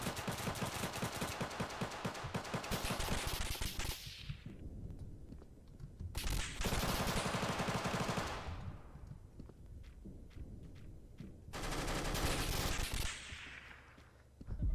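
Gunfire in a Roblox shooter: rapid bursts of automatic fire in three long stretches separated by brief pauses, loud and close, with no talk.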